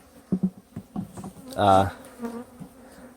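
Honey bees buzzing at an open hive during an inspection, a soft steady hum with one louder swell as a bee passes close to the microphone. A voice speaks briefly over it.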